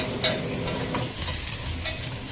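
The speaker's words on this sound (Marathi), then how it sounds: "हे सगळं मिश्रण मस्त फ्राय करून घ्यायचं आहे" Asafoetida and chopped garlic fry in a pan, a soft continuous sizzle with stirring scrapes, fairly quiet and close.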